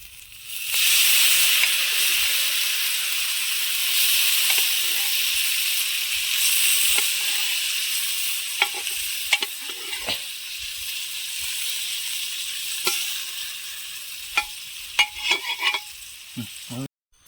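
Cooked beef is tipped into a hot pan for a beef curry and stirred, giving a steady close sizzle and frying hiss with scraping and clinking stir sounds that grow more frequent toward the end.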